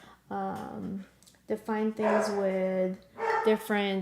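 A dog barks several times, sharp yipping barks in two or three bursts, close and fairly loud, mixed in with a person talking in an indoor painting session.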